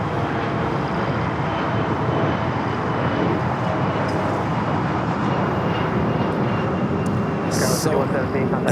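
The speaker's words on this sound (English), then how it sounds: "The way down the MSC Air Cargo 777 freighter are going to be heading to Hong Kong." An MSC Air Cargo Boeing 777 freighter at Los Angeles airport produces a steady, broadband jet roar that holds at a constant level throughout, with a voice talking over it.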